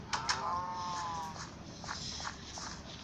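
Cows moo in a Minecraft farm game, several drawn-out calls close together over a steady background of game noise and faint footsteps, with no talking.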